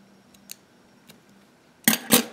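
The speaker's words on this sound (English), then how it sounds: "Now what you want to do is to cut off the remaining piece of thread." Scissors snip through crochet thread in two crisp, close cuts near the end, preceded by faint light clicks of handling in a quiet room.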